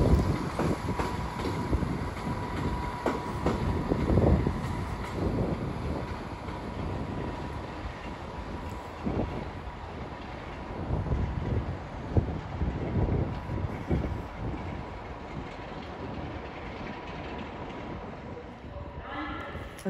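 A London Northwestern Railway train from Liverpool Lime Street pulls into Crewe station on the West Coast Main Line. There is a steady low rumble and rail noise throughout, with wind buffeting the microphone.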